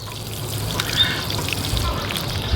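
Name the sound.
watering a pepper transplant with a watering can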